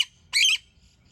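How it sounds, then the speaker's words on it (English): A crow gives one short, harsh caw from a distance outdoors, a single quarter-second call standing alone against quiet background. "There's a crow over there,"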